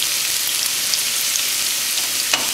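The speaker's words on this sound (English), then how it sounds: "let these saute on medium heat" Onions sautéing in oil in a pan over medium heat for a garden omelette, a steady close hiss of frying with small crackles throughout and one sharper pop near the end, no voices.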